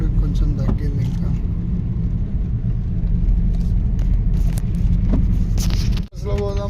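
A car drives along a wet road on a rainy weekend tour to a temple, its interior engine and tyre rumble steady and close throughout, with people talking inside and a short dip near the end.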